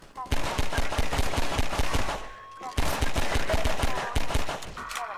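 Rapid automatic gunfire from the Half-Life 2 video game rattles in two loud sustained bursts, separated by a short pause, with faint game sounds in the gaps.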